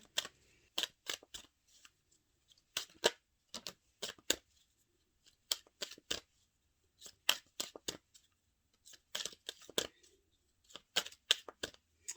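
Tarot cards shuffled by hand in quick, crisp riffling bursts, some single and some in tight clusters, separated by short silences, close and fairly quiet with no talking.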